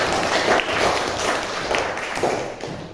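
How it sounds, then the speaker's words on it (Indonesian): Classroom applause in Indonesia, a dense wash of clapping from a group that holds steady for three seconds, loud and close, with no talk over it. "Kasih tepuk."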